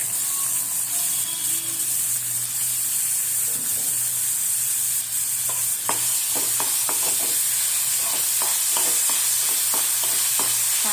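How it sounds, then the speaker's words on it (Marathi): Onions sauté in two spoonfuls of oil in a kadhai, with a constant loud sizzle close up and a run of quick clicking stirs in the second half. "त्याच्यामध्ये आपल्याला कांदा परतून घ्यायचा आहे"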